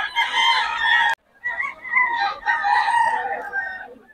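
A rooster in a Filipino gamefowl yard crows loudly and close, breaks off briefly, then carries on with a long run of clucking calls.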